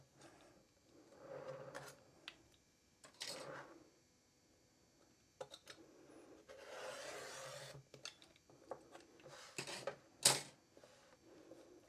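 Cutting along the sides of a densely quilted fabric piece for a bench pillow: quiet, intermittent rasping and scraping strokes with short pauses and a few sharp clicks, close up.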